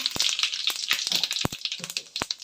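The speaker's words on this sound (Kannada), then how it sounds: "ಇವಾಗ ಜೀರಿಗೆ ಹಾಕ್ಕೊಬೇಕಾಗುತ್ತೆ" Cumin seeds crackle and sizzle in hot oil for a tomato gojju, with bright hissing frying noise broken by frequent sharp pops and spits, close and lively throughout.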